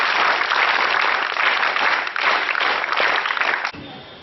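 An audience claps at an International Vyshya Federation event in Jagtial, dense sustained applause that fades briefly near the end.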